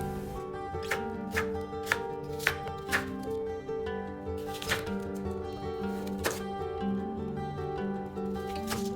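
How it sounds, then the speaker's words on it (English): A knife chops fruit on a board in a series of crisp, irregular taps over soft background music. "First, cut the fruit into pieces."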